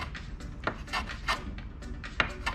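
A freshly sharpened hand tool chamfers the wooden edge of a bar stool, giving a series of close, dry rasping strokes in an irregular rhythm, each a short scrape against the grain.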